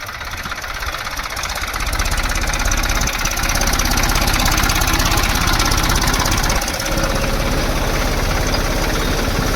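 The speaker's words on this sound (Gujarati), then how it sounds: "અત્યારે અશ્વિન કાકા ટ્રેક્ટર લઈને ધાણા વાવવા આવ્યા છે." A tractor sowing coriander seeds in a farm field, its engine chugging loudly and steadily with a knocking idle rhythm close by, swelling slightly after the first couple of seconds.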